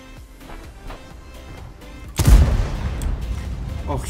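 Tank cannon fire in the World of Tanks video game from a Jagdpanzer tank destroyer: a single heavy boom hits suddenly and loudly, then rumbles and decays over the following seconds above quiet background game sounds.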